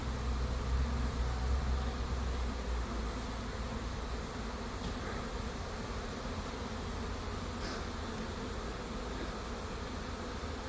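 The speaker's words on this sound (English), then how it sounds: "especially when a bigger swarm like this comes in, they want a little more volume that they know they can fit in it" A bee swarm arriving at a swarm trap box in a backyard makes a dense, steady buzzing drone that fills the whole stretch, close and constant, with no voices.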